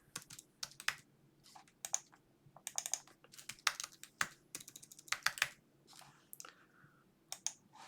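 Computer keyboard keys clatter in quick irregular bursts of close clicks while code is being edited, with short pauses between runs and no talking.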